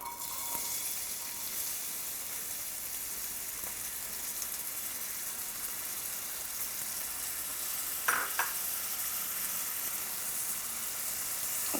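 Onion sizzling in hot olive oil in a pot over medium-high heat, a steady hiss with a couple of brief stirring scrapes near the end.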